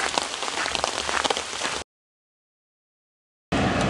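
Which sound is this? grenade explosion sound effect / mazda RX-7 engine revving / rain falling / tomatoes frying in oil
rain falling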